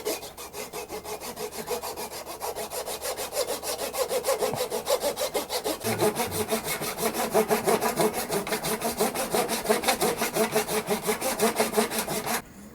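Handsaw cutting through wood for an electric guitar neck, with fast, rhythmic push-pull strokes, close and loud, continuing steadily throughout.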